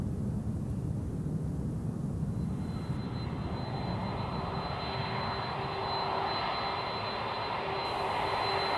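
A Qantas Boeing 747 jet departing Perth Airport, a loud continuous engine roar with broadband rushing noise and a rising whine, steady and sustained throughout with no voices.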